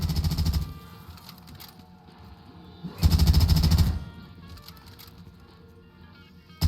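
A PPSh submachine gun on a custom zombies map rips off two loud, rapid bursts of fire, each about a second long, with a quieter stretch of game sounds between them.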